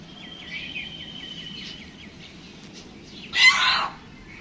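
A chicken clucks in a series of thin, repeated calls that build into a louder, harsher burst near the end, fairly close and with no talking.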